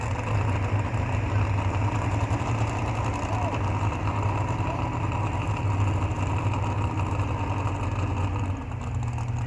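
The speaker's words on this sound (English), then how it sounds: "This one makes some pretty good noise, that good Finook engine in there." A race car engine with a Finook engine idles with a steady, rough, rumbling drone that holds constant and close throughout, without revving.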